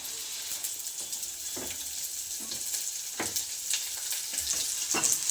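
Chopped beans and carrots with onion fry in a pan, a soft continuous sizzle under scattered scraping stirs that grow a little louder toward the end, close up and without speech.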